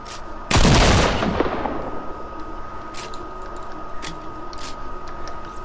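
A double-barrel shotgun fires once in a video game: a single loud, close blast early on that fades into a low rumble, followed by faint clicks and ambient hum.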